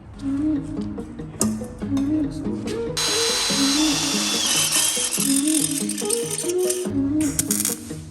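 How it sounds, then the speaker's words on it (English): A power drill with a step bit grinding through metal, with rattling, ratcheting mechanical noise and pitch shifts as the bit bites in, running continuously up close. "let's go ahead and drill it all the way through to the end here"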